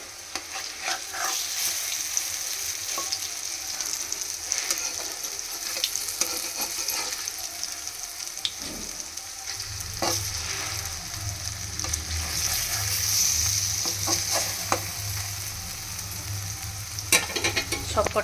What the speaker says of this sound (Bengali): এখানে আমি এবার এগুলো এরম করে ভেজে নেব